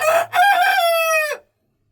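A pet rooster crows loudly and up close in a backyard chicken run, giving a full cock-a-doodle-doo with a brief break near the start and a long sustained final note that ends abruptly. No voices are heard.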